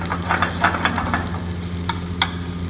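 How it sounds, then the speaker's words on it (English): Zucchini sautés in a hot pan while being stirred continuously, giving a steady close sizzle with a few light scrapes and taps from the utensil. No one speaks. "I'll throw in the zucchini and I'll continue to saute this, stirring this continuously."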